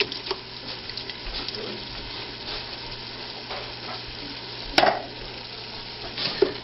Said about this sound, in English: Mix that in and let it cook up.